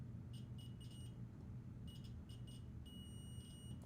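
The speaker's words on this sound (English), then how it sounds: "So hopefully we get a beep." Short electronic beeps from a continuity tester checking wiring connections on ESP-based Christmas ornament prototypes come in bursts, first a few quick ones, then a cluster, then a longer steady tone, all faint over a low background hum.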